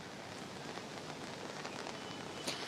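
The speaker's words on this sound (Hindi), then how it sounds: "देखिए जिस तरीके से मुंबई में बारिश हो रही है" Steady rain falls in Mumbai, a dense, even hiss of drops on surfaces with a few louder splashes, continuous and fairly close, with no voices.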